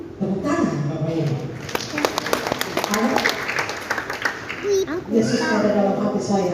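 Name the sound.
audience applause at a Christmas event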